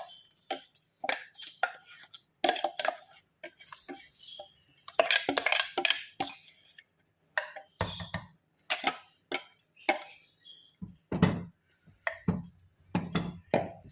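Mango curry in a pot, with ground coconut paste just added, is stirred with a spoon, giving repeated scraping and clinking strokes in an uneven rhythm, close and fairly loud, with no talking.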